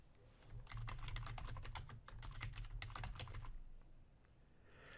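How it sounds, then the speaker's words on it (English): Computer keyboard keys tapped in a quick irregular burst while a password is entered for a new user account, close and crisp, settling into quiet after a few seconds. "And I'm going to set a password for Bob Ross."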